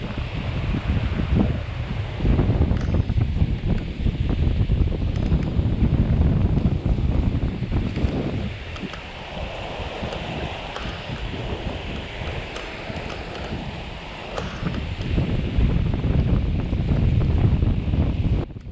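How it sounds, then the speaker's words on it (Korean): Strong wind of about 7 to 8 m/s blowing on a small seaside island during fishing, a loud continuous roar buffeting the microphone, with surf and rustling underneath, easing briefly midway before gusting again. "영상에서도 느껴지듯이 바람의 세기가 굉장하죠."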